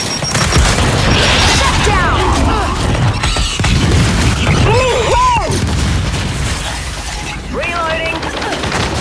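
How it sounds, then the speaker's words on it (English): A frag grenade explodes in Gears 5 Horde mode on the Clocktower map, a heavy boom inside a dense, continuous wash of combat noise, with voices calling out over it. "Throwing frag!"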